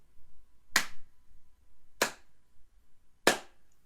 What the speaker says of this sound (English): So everybody close your ears. We're going to clap.